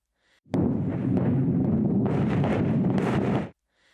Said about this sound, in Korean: 불빛 하나 없는 밤, 폭발음과 함께 섬광이 번쩍입니다.